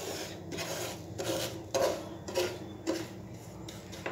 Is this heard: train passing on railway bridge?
no